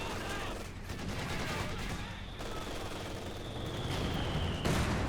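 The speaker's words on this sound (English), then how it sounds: "Mortar rounds firing on each player." Mortar rounds and other gunfire in Company of Heroes 2, a dense, continuous rumble of distant explosions and shots that keeps going throughout with no clear gaps.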